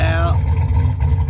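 A turbocharged Ford Mustang Fox-body notchback with an F-cam runs close by as its exhaust cutout opens. A brief rising whine fades into a loud, deep, steady exhaust rumble.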